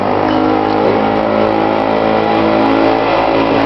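A car engine held at full throttle, a loud, steady, sustained roar with dense harmonics and no break, close by and alone with no voices.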